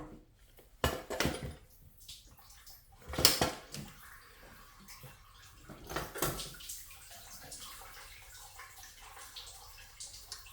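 Coolant splashes and gurgles from a C5 Corvette LS6 engine as the water pump comes off. Irregular liquid spatters and a few sharper clinks sound fairly close, then fade to a faint trickle.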